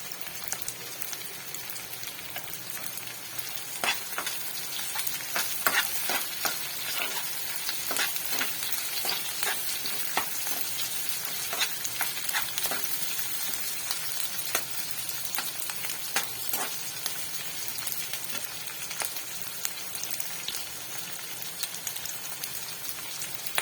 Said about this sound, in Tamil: பச்சை மிளகா இஞ்சி பூண்டு இது எல்லாத்தையும் சேர்த்துக்கலாம்